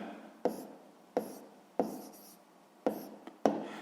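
Pen writing on paper while solving a sixth-grade fraction exercise: five short scratchy strokes at a steady, unhurried pace, close and fairly quiet, with no talking.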